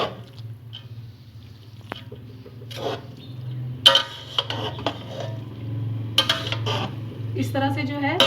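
Rice is gently mixed into masala in a pot for biryani, with soft squishy stirring, spoon scrapes and light clinks against the pot, close by, with some voice-like tones underneath.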